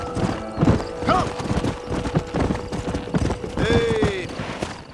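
Horses in the Western video game Red Dead Redemption clop their hooves close by in an uneven, rhythmic run. A stallion lets out a clear whinny partway through.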